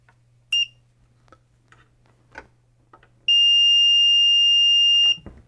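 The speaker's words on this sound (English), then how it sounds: "I've got the meter on continuity beep." A short electronic beep from a multimeter on continuity test, then a long steady high-pitched tone lasting nearly two seconds, with faint clicks and a low hum between.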